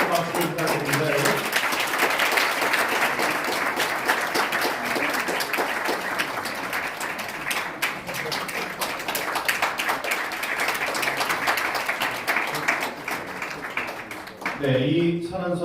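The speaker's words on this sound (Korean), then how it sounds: "박수 부탁드립니다, 여러분." Attendees at a Korea–Israel summit forum applaud after the two countries' representatives exchange signed declarations. The sustained, fairly loud clapping fills the room for about fourteen seconds, with brief speech at the start and as it ends.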